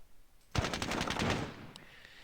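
A rapid burst of machine-gun fire rattles out in Squad Battles Tour of Duty, a fast rhythmic string of close, loud shots lasting about a second before fading into a faint tail.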